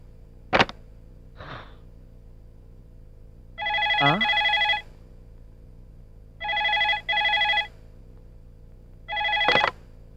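A dialed telephone call rings back with three separate bursts of repeated electronic ringing, broken up by brief clicks and near silence.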